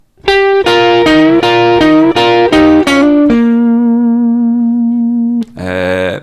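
A distorted electric guitar plays the intro phrase of quick, punchy notes, rings out on a long sustained note, then strikes one more chord.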